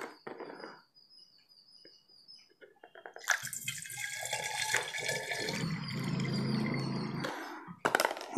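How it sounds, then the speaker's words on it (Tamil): Coconut toddy mix flows from a container into a bottle in one steady, splashing, gurgling pour lasting a few seconds, close up after a quiet start, with faint clatter around it. "இப்போ இந்த மிக்ஸை நம்ம இந்த பாட்டிலுக்கு மாற்றிக்கலாம்."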